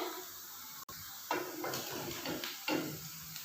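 Boiled eggs sauté in a pan for an egg and potato biryani, giving a quiet, steady sizzle with soft stirring scrapes and a few louder bursts midway, with no voices.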